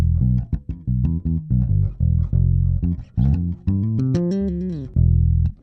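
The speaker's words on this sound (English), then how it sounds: "a very clean sounding bass" A clean, dry electric bass recorded through an Audient ID44 interface without processing plays a melodic line of plucked notes, some short and punchy, others sustained and sliding, alone with no accompaniment.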